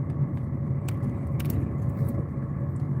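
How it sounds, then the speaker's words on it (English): Truck driving along a dusty dirt road, a steady low engine rumble and road noise heard from a moderate distance, with a few faint rattling clicks over it. "And that truck is back here kicking up all this dust."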